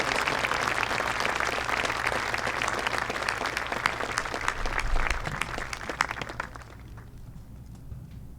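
An audience at a high school graduation ceremony gives a dense round of applause that holds steadily, then fades to a few scattered claps.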